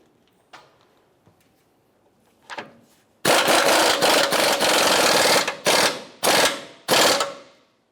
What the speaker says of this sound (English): then we can go ahead and tighten both of our mounting bolts for the lower control arm